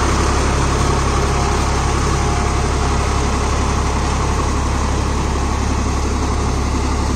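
A Swaraj 963 FE CRDI tractor engine runs steadily with a loud, unbroken low diesel drone and a constant rumble, close by and without any speech.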